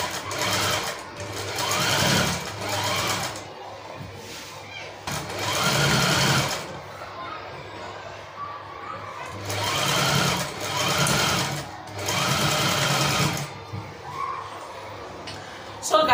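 A sewing machine stitches a kaftan dress seam in several bursts of fast, even whirring, stopping and starting in between, with a voice talking during the pauses.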